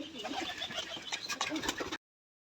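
A pigeon at a giribaj pigeon farm coos and stirs for about two seconds, fairly close, before the sound cuts off abruptly.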